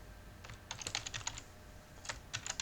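Quiet, crisp keystrokes tap on a computer keyboard as an IP address is typed in two short clusters, with no voices.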